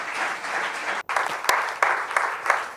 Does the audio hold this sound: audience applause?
yes